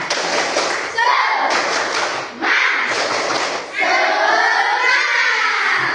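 A school class does tepuk semangat spirit clapping, firm rhythmic claps and thumps under loud chanting voices of children and a teacher, in bursts with short pauses.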